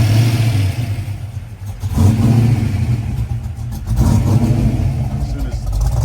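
A car engine runs at a rough idle after idle air bypass trouble, a steady low rumble with slight surges, close and loud.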